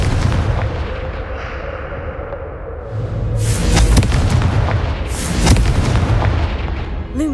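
Blasting-spell explosions from the Hogwarts Legacy video game, loud booming bursts with crackling debris, two big blasts in succession over a rumbling game backdrop.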